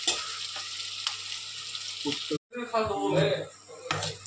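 Onions fry in oil in a pan with a continuous close sizzle, a brief cut to silence midway, then more crackling frying as a voice speaks over it.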